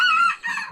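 Chickens and roosters of assorted breeds at a bird sanctuary in Dhirkot, Azad Kashmir, give a short burst of close fowl calls, a couple of overlapping strident squawks with a brief dip between them.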